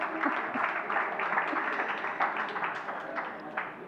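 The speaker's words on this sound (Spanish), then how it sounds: "Esto merecería un aplauso." Audience applause at a Spanish literary talk on climate fiction, a steady patter of many hands clapping that holds for several seconds before slowly thinning, fairly distant and moderately loud.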